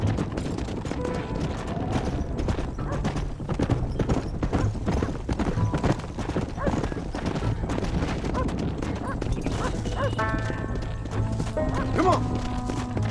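Horses in the Red Dead Redemption video game trot with steady, dense clip-clop hoofbeats close by, with whinnies and neighs breaking through, while a voice speaks briefly and faint gunfire crackles in the background.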